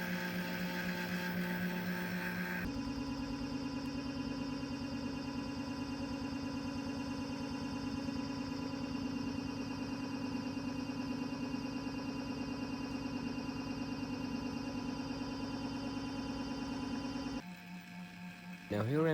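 A cheap brushless DC motor spins on its driver board from a 30-volt supply, giving a steady electric whine with a constant hum that holds for most of the clip before cutting off near the end.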